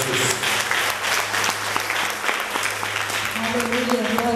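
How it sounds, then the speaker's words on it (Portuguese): Church congregation applauding loudly and steadily for a visiting sister at a worship service, the clapping dense and continuous throughout with a sustained low hum beneath and faint voices mixed in. "recebi a nossa irmã com palmas bem fortes para Jesus."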